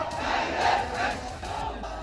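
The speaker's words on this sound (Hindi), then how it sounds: "1 लाख की भीड़ सड़कों पर आ गई है।" A large crowd of street protesters supporting Gaza and waving Palestinian flags roars and chants together in loud, surging waves.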